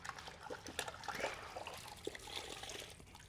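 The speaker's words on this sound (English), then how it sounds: "when you scrub it and you hit the grit guard" Wash mitt being scrubbed against a grit guard in a bucket of rinseless wash solution, faint sloshing and wet dribbling with small scrubbing splashes, close and quiet.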